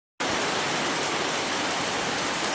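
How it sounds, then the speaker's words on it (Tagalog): Heavy rain pours down in a steady, dense roar that starts abruptly and continues without letup, loud and close. "At sobrang ulan na naman dito sa amin."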